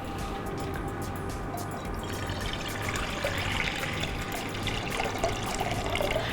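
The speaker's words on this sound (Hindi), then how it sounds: "इसमें पानी डालते हैं।" Water is poured into a pot holding chicken and spices to make chicken stock (yakhni), a continuous close splashing and filling stream that grows slightly fuller as the pot fills.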